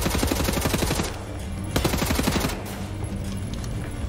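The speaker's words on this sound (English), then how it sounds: "Frickin' ricocheting." Rapid gunfire with bullets ricocheting in Wolfenstein: The New Order, a dense, loud burst of rattling shots that breaks off and then resumes, filling the whole clip.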